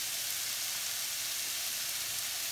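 Two goat brains going into a pot of boiling salted water, giving a steady, fairly loud bubbling hiss and sizzle throughout with no talking.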